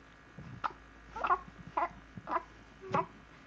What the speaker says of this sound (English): You'll get rid of those hiccups soon